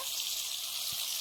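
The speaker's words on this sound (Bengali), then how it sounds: "বড়ি আমরা এভাবেই ভাজি।" Bori lentil dumplings frying in mustard oil in a kadai, giving a steady, close hiss of sizzling oil that stays even throughout the brief moment.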